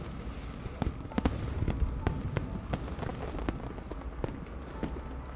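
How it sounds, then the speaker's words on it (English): Fireworks bursting across a night sky in the Love and Deepspace video game, a string of sharp pops and crackles over a steady rumbling wash, loud and close, with no voices. "the first firework bursts across the night sky"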